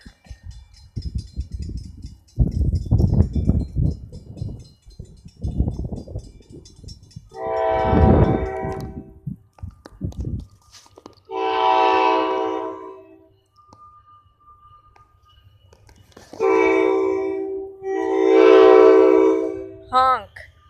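Passing train at Raritan sounds its horn in repeated long blasts, loud and fairly close, after a rumble of rail noise, with voices talking early on and between honks.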